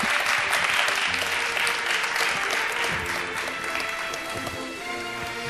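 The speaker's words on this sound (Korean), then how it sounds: "여러분 큰 박수 부탁드립니다" Steady applause fills a hall as a company president steps onto the stage at a Korean baseball defensive-player awards ceremony, a thick continuous clapping that slowly eases off with no voices over it.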